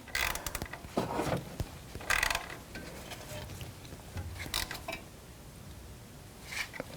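An E10 inverted Torx socket tightens a bolt on the serpentine belt tensioner of a 2006-2012 Toyota RAV4: a few short bursts of ratcheting clicks separated by pauses, close and moderately quiet.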